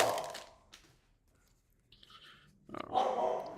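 A dog named Zeus whines and whimpers in short, thin bursts at someone at the front door, separated by quiet gaps, ending in a louder, rougher burst of noise nearby.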